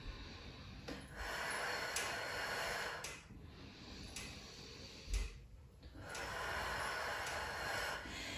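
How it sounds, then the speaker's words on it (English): Breathing during a Pilates arms and legs workout comes as several long, airy inhales and exhales spaced about a second apart, close and fairly soft, with no talking. "We're breathing in."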